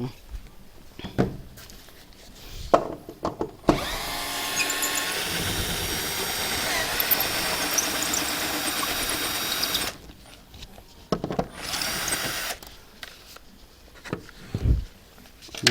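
A power drill whines steadily for about six seconds, drilling mounting holes while installing solar panels, bracketed by clattering handling noises and brief bursts of talk before and after.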